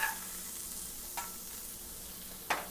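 A burger patty sizzles in a black iron pan just after being flipped, a constant close frying hiss broken by a few sharp scrapes and clinks of a spatula, with no talking.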